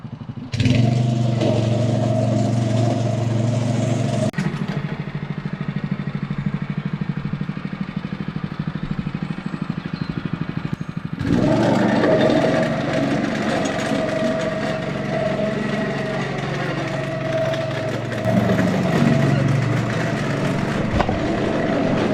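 A small engine-powered lawn aerator runs close by with a steady droning motor, dropping to a lower idle in the middle stretch before returning to full working pitch, no voices.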